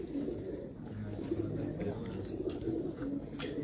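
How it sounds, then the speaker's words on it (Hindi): Several pigeons coo in low, throaty, overlapping calls close by, a continuous soft burbling with faint rustling. "ये कबूतर बहुत अच्छा।"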